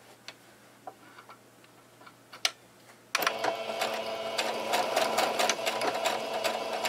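A sewing machine runs back stitches on a homemade fabric face mask: a few faint clicks at first, then a loud, fast, continuous rattling run that carries on to the end.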